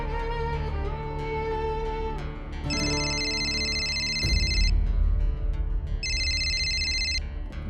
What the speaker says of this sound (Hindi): फोन क्यों नहीं उठा रही हो तुम मेरा?